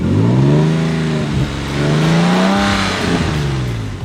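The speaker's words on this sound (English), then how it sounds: "go blip it a little bit, blip it a little bit. Let's hear what the intake sound like." An Infiniti engine fitted with an HPS cold air intake revs up in two loud, close blips, the pitch climbing and falling each time over a strong, steady engine drone with intake roar.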